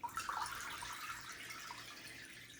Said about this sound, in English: pour the rest into the sink